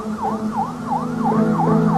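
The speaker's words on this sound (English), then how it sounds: "That siren is the sweet sound of backup on the way." A police siren wailing in a steady, repeating up-and-down sweep, moderately loud and unbroken, with no voices over it.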